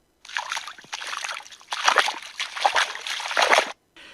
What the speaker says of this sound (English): Soon he lands softly in some yucky sewer water and begins to trudge through the sewers.